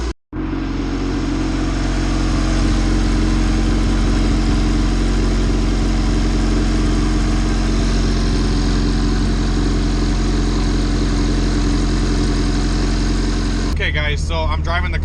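Turbocharged Honda B20V in an EK Civic idling steadily as it warms up, a loud continuous low rumble that holds evenly throughout before a brief burst of other noise at the very end.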